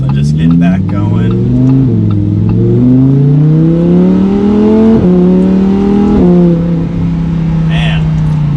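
2020 Lamborghini Huracan EVO with a naturally aspirated V10 in Corsa mode, its exhaust rising in loud, rich pitch through successive gear pulls with brief dips at each shift, heard from inside the car with someone talking over it.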